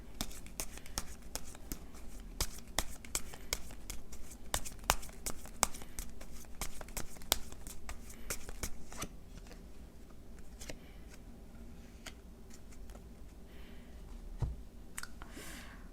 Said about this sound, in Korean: 우선 좋은 카드를 2장만 더 먼저 뽑아볼게요.